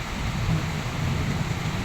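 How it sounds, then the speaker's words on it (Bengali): Heavy rain in a thunderstorm with gusty wind in Sylhet, heard through a window as a dense, steady roar of downpour with low rumbling underneath, continuous and fairly loud, no voices. "বৃষ্টি তো শুধু খালি বৃষ্টি না, দমকা হাওয়া এবং বজ্রপাত হচ্ছে, বিদ্যুৎ চমকাচ্ছে"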